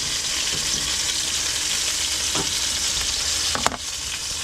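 Food frying steadily in a pan at a beach camping-car stop, a dense continuous sizzle with a few soft utensil clicks and one sharper knock near the end.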